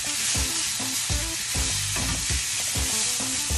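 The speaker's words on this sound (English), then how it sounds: "about a teaspoon of chili. And I'm gonna give that a stir." Ground bison seasoned with chili is stirred in a pan, a spoon scraping the pan in steady repeated strokes over a continuous close sizzle, with no talking.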